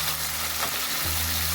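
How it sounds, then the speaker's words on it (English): Natural seasonings sauteing in hot oil in a frying pan for ackee and saltfish, a steady close sizzle with a low hum underneath. "We put all our natural seasonings in the frying pan to be sauteed."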